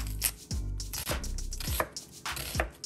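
A knife chops white onions on a cutting board with five or six sharp, evenly spaced knocks, each one close and crisp, and no one speaks.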